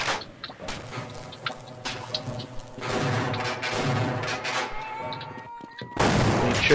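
Shotgun blasts in Half-Life, several loud broadband shots spread across the clip with reload clatter between them and a sharp final blast at the end over game ambience.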